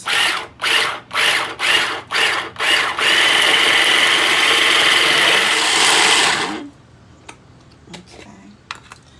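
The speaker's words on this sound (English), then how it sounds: "Grind it down as far as we can get it without it becoming a paste." An electric grinder pulses ingredients for a Cruzan pound salt seasoning: six short, even bursts of whirring, then one long continuous run that cuts off abruptly, leaving faint clicks and quiet kitchen sounds.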